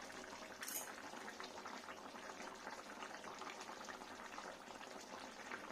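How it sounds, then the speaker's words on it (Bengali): A vegetarian curry broth with ground cumin bubbles gently in a pot, a soft continuous fizzing and popping simmer heard close up and quiet, with no talking. "দেখুন কত সুন্দর, একটু ফুটে যাক জিরেটা"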